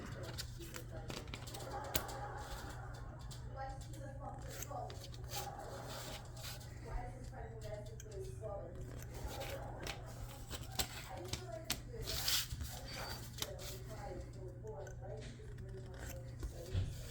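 Scissors snipping the corners off card wallet material in short, quiet cuts scattered through the clip, with a low steady hum underneath.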